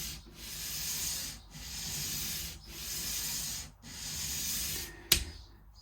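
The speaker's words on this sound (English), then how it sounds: "hand sanding like this is far better than machine sanding" Hand sanding wood on an acoustic guitar: four slow, even rasping strokes separated by short pauses, close and soft, ending with a sharp tap.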